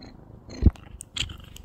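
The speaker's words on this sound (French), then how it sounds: "Mademoiselle nous fait ses premiers ronrons." A young kitten purrs softly indoors in a few faint, uneven rumbling bursts, with brief higher clicks and rustles between them and no talk.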